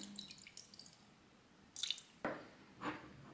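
Wine going into a Silvercrest SFE 1500 D3 electric fondue pot set to temperature 2, heard as a few brief, quiet, wet drips and splashes separated by pauses.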